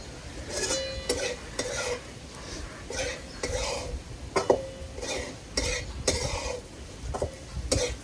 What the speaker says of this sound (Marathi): एवढ्या जाळावर मस्त एवढी खिचडी भाजती म्हणजे शिजून निघती